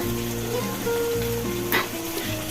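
A water-mixed spice paste of turmeric, cumin, coriander and chili powders hits a hot pan with potatoes, producing a continuous close sizzle with a brief louder burst near the end and a low hum beneath, with no voices.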